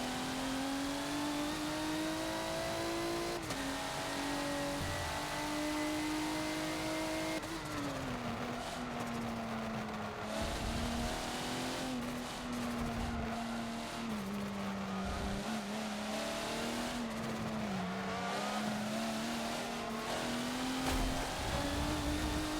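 Race car engine in the Forza video game on the classic Indianapolis Grand Prix track, running loud and sustained, pitch climbing through the gears and dropping at upshifts, with faint tire noise.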